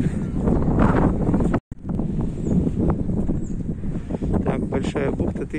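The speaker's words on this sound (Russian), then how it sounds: "Холодно и ветер." Cold wind buffets the microphone on a seafront promenade in Anapa in mid-March, a steady loud rumble with one brief dropout, and voices can be heard faintly underneath.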